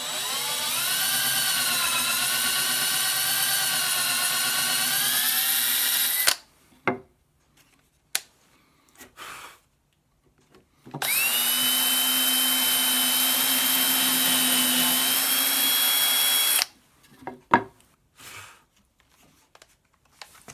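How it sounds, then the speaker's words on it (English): A cordless drill bores holes into wood for a small school desk. The motor whines steadily in two long, loud runs, each ending in short bursts and clicks, with quiet gaps between. "I'll go ahead and drill the rest of them"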